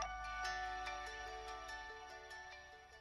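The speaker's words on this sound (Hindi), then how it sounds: "इतनी बार काटने के बाद भी वो फोन करता ही जा रहा है।" A mobile phone rings with an incoming call, a repeating electronic ringtone melody in short pulses, fairly faint and steady over a low hum, with no voices.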